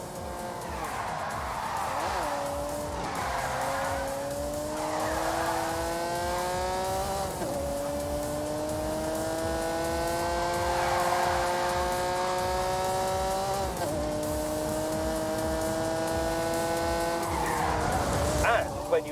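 A 1985 sports car with a 5-litre V12 drives on a track, its engine note rising and falling through repeated gear changes, with tyre squeal in places and someone talking over it.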